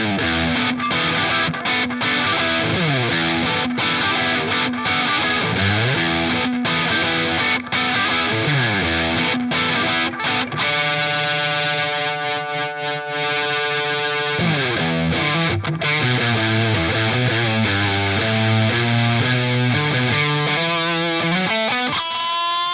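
Heavily distorted electric guitar plays chugging riffs and sustained chords, loud and continuous, with a shimmering effected passage midway.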